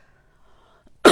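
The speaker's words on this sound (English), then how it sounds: "Sorry, I do have a cough still." After near silence, a single short, loud cough bursts out close by at the very end.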